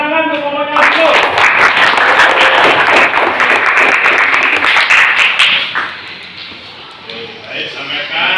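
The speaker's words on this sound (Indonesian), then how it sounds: "Tepuk tangan untuk kelompoknya Alvino." Classroom applause bursts out for Alvino's student group in a primary school lesson, loud dense clapping that runs for about five seconds before thinning out, with children's voices chattering over it.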